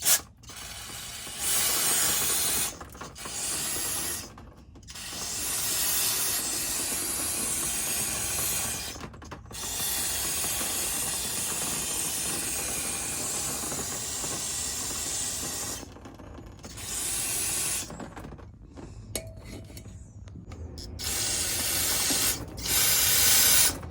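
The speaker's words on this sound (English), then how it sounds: "got my degreaser and I'm just gonna spray away" Degreaser sprays from an aerosol can during a car window repair, long loud hissing bursts separated by short pauses, close to the microphone with no talking.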